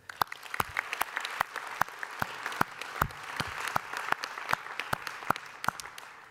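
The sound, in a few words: audience applause at award ceremony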